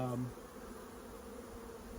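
A late-season honey bee swarm hums as a continuous, fairly faint buzz, with a brief brighter tonal note at the start before the steady drone settles.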